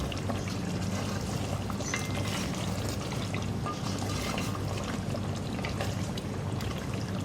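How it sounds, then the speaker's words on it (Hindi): Korma masala being stirred into mutton korma in a pot, a steady wet sizzling and churning that runs evenly throughout, with no talking. "मिक्स कर देंगे इसमें।"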